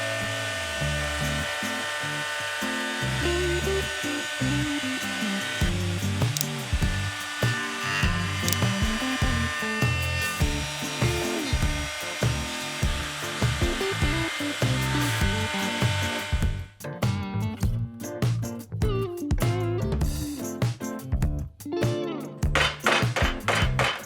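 A router or power tool cutting a chamfer along the outside edges of faux live edge resin and wood bookends, a loud continuous high whine that later breaks into choppy bursts as the bit passes.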